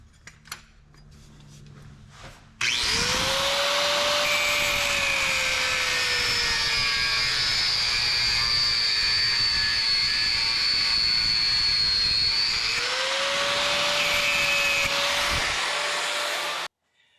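A power cutting tool grinds off a corroded catalytic converter bolt on an 80 Series Land Cruiser: a loud, close, steady high whine runs about ten seconds, pauses briefly, then resumes for a few more seconds before stopping.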